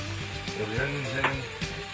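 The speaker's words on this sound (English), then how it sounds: "Throw the onions in." Onions hiss and sizzle as they hit a hot pan in a country kitchen where deer steaks are being cooked, a steady frying crackle with a few sharper bursts and clatters, close by, with a voice talking over it.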